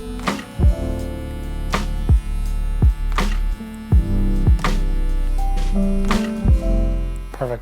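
An electric hair clipper hums steadily and close while it trims a taper haircut, with the edge of the blade working one small area. Several brief knocks and bumps break through the continuous buzz.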